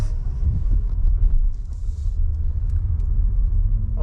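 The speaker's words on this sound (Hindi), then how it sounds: "हम फेरी के अंदर गाड़ी पार्क कर रहे हैं" Car rolling onto and parking inside a ferry, a loud continuous low rumble of engine and road noise with occasional faint clunks and creaks, no voices.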